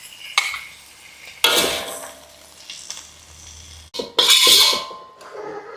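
A utensil scrapes and clanks against a pan while cooked smoked meat with green chilies is scooped out, in a few sharp bursts of metal scraping and clatter with quiet gaps between.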